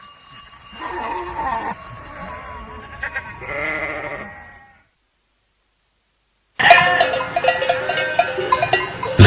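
Sheep bleat in wavering cries, a couple of calls up close, then a pause of silence before a busy stretch with more bleating and clanking bells.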